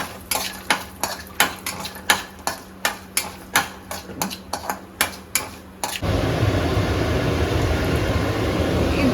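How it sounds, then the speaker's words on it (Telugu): Ingredients fried with chilli powder and salt in a pan for kaju paneer butter masala: about a dozen regular loud scraping clanks of a spoon against the pan, then a steady close sizzle of frying. "దీన్ని మనం లైట్గా గోల్డెన్ బ్రౌన్ అయ్యేంత వరకు ఫ్రై చేసుకోవాలి."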